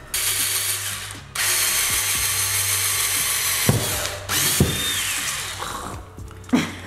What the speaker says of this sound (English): So we're gonna start drilling.